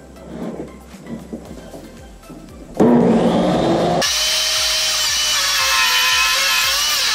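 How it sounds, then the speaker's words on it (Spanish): Power saw making a 45-degree cut through a wooden board for a drawer unit, spinning up with a loud whine and then biting into the wood with a steady, harsh, close cutting roar, after some quieter handling noises. "Vamos a hacer otro corte de 45 grados en la misma dirección que este"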